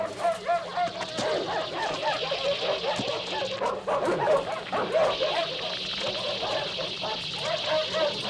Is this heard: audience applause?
no